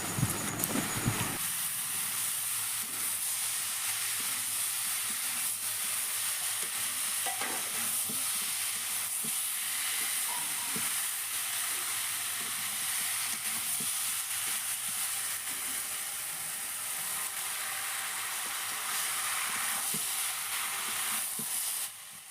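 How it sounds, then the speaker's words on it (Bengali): Vegetables for a vegetarian pumpkin chhokka are sautéed and stirred in a pan, giving a steady, close sizzle with scraping spoon strokes that runs unbroken throughout, with no talking. "বাকি যে সবজিগুলো ভেজে রেখেছিলাম সেগুলো এর মধ্যে অ্যাড করে আবারও সব কিছু খুব ভালো করে কিন্তু কষিয়ে নিতে হবে"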